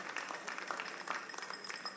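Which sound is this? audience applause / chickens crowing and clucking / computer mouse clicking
audience applause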